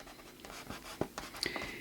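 Soft pastel dragged across dry raw paper, giving a few soft scratchy strokes and taps, close and quiet, with no talking.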